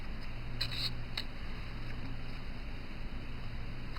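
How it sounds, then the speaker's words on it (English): Scissors snip out printed paper window panels for a model aircraft canopy, a few quick, crisp cuts early on, then only a soft steady room hum. "the next thing we want to do is cut out all the window panels."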